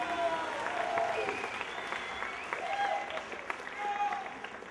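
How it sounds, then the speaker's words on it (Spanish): Audience applause at a live event for a performer named Tadeus, a steady dense clapping wash sustained across the whole stretch, with scattered cheers and voices rising through it. "un aplauso también para Tadeus"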